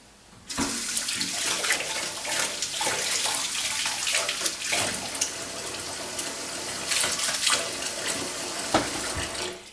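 Running tap water streams steadily over fresh carrots being washed by hand before canning, a loud continuous splashing gush with irregular spatters and knocks as the roots are handled.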